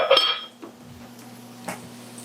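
Eggs being scrambled in a bowl for a breakfast burrito, heard as a few close clinks and scrapes of utensil against the bowl, loudest at the start with another knock near the end, over a steady low hum.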